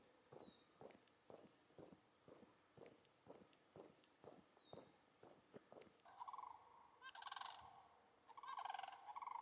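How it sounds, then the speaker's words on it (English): A group of sandhill cranes calls from a distance, their faint rattling cries heard over steady footsteps along a road, followed by louder broadband outdoor noise. "A group of sandhill cranes out there cawing."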